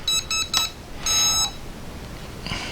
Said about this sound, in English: Got a few beeps up and down. Looks like it binds it.